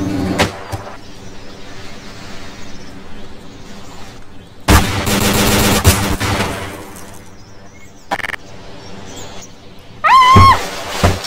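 Gunfire in the Garry's Mod video game, with sharp shots and dense bursts of fire rising over game noise and background voices, loudest around the middle and again near the end.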